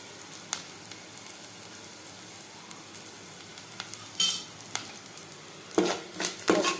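Boiled jackfruit seeds frying in a pan with a little turmeric added, giving a steady low sizzle broken by a few sharp bursts of stirring and spoon scrapes against the pan near the end.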